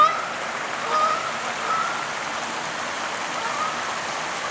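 Continuous rushing water of a waterfall on a southeast Wisconsin steelhead tributary stream, a steady broadband roar at moderate distance with no voices.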